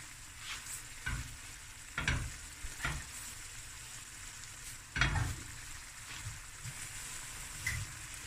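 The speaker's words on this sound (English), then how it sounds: "Give it a stir" Lamb chops and cauliflower stirred as they fry in a pot for breyani, with a soft low sizzle and several distinct scraping stirs spaced a second or two apart, fairly quiet.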